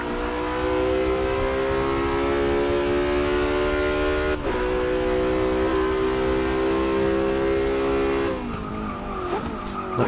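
A Porsche hypercar in the Forza Motorsport 6 racing game holds a loud, sustained high-revving engine whine. A brief gear shift comes partway through, and the tone drops and wavers near the end.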